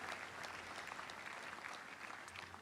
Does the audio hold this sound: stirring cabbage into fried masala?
no